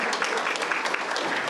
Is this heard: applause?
yes